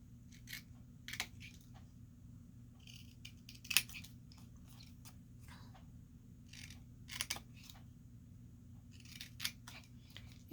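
Scissors cutting tabs in paper for a small handmade gift box, sharp crisp snips in uneven clusters over a quiet low hum, close and clear with no talk.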